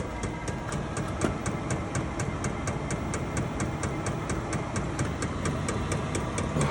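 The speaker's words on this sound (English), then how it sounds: "Hear that? That's your fuel pump." A car's fuel pump runs steadily with a fast, regular ticking pulse over a continuous low mechanical hum, close and moderately quiet, with no talking.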